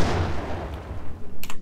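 A grenade blast and gunfire in the video game Max Payne: a loud, rumbling explosion decays into a low roar, followed by several sharp, close shots near the end.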